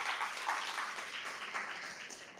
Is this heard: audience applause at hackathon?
yes